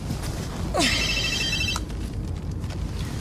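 A telephone rings in a police station, a bright electronic trill lasting about a second, followed by a single short click.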